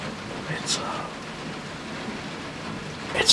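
Steady rainfall hisses evenly throughout, with a couple of faint brief sounds rising above the wash of drops.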